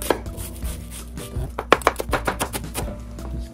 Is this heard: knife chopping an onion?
yes